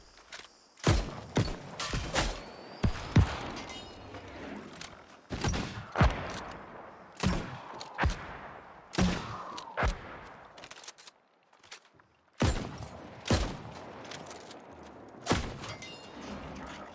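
Musket and blunderbuss gunfire in the video game New World, a series of sharp, loud shots fired at irregular intervals about a second or two apart, each with a short echoing tail and brief gaps between volleys.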